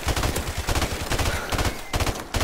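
Loud, continuous automatic gunfire in Call of Duty: Modern Warfare Remastered, rapid close shots in a steady rattling stream with only a brief dip near the end.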